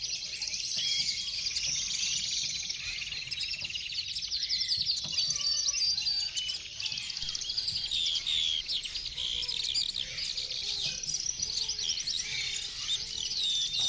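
Many birds chirp and sing continuously, high bright calls overlapping densely at moderate distance, with no talking.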